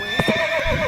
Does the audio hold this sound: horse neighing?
yes